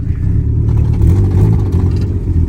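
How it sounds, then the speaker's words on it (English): Honda CRX with heavy boost doing a second gear burnout, a loud, steady close-up engine roar held at high revs with a harsh, buzzy low drone throughout. "Second gear burnout."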